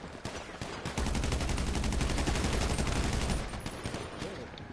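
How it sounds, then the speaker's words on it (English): Rapid gunfire in the video game GTA 5, a dense continuous burst of automatic shots that swells and holds for several seconds, loud and close. "Lala, what the fuck you shooting me for?"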